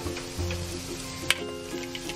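Seasoned shrimp sizzle in a pan with butter and garlic, a soft, steady frying hiss at moderate distance with one sharp clink of a utensil partway through.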